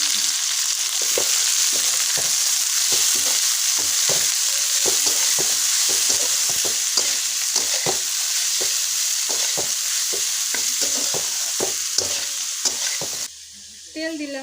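Drumstick leaves tossed with chili and onion in hot oil for a potato stir-fry, loud continuous sizzling broken by steady, repeated scraping strokes of the spatula against the pan, without talk.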